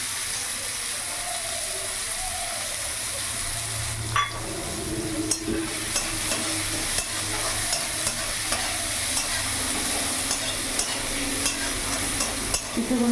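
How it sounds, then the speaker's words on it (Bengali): Chopped onions frying in a pan for a Bengali silver carp curry with potato and eggplant, giving a steady close sizzle with scattered scraping clicks from stirring and no voices. "কিছুক্ষণ পেঁয়াজটাকে লাল লাল করে ভেজে নেবো।"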